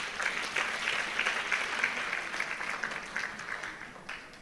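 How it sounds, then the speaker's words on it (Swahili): An audience claps steadily for a panel discussion, a dense, even round of applause that holds for several seconds and fades slightly toward the end. "please a big round of applause to them"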